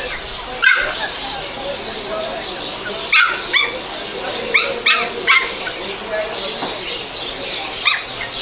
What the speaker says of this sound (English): There's a husky in there.